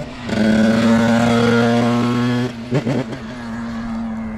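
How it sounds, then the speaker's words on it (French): A small two-stroke Beta dirt bike engine warming up idles steadily with a buzzy, droning tone, then blips its throttle a few times before settling back to idle. "Là il va chauffer sa moto tranquillement"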